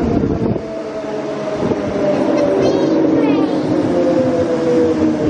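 A train pulling into Rosewood station, a steady loud rumble of wheels on rail with metallic squealing tones as it slows, heard close by on the platform.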